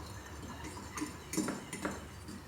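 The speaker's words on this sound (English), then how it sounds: "Stir, stir, stir." A fork stirs eggs in a bowl while scrambled eggs are being prepared. It makes faint, uneven metallic clinks and scrapes in a short quiet run.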